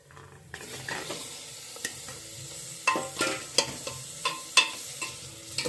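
Mutton pieces go into golden brown onions in a hot pan and are stirred, a soft sizzle broken by a regular series of sharp scraping and knocking strokes of the spoon against the pan, with no one talking.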